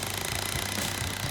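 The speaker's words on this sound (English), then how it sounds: "it's an impact cordless, I love it, is that it's biting through" A cordless impact drill drives a leg into the floor of a deck, a loud, continuous rapid hammering rattle with no pause and no talk.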